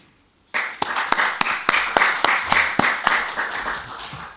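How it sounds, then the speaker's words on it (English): A seminar audience applauds its speakers, a modest group starting abruptly after quiet with distinct, fairly sharp claps and a steady patter that carries on for several seconds. "I think both our speakers have earned a good applause"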